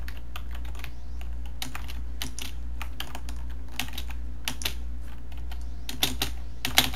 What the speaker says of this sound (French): Vous allez m'entendre spammer mon clavier quand je me fais stun.